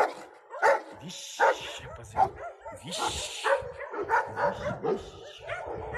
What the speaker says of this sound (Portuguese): Olha o tamanho do cachorro.